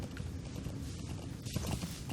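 Horse hooves clip-clop in the video game Metal Gear Solid 5: The Phantom Pain, a quiet, steady run of soft hoof thuds with a firmer cluster near the end, and no voices.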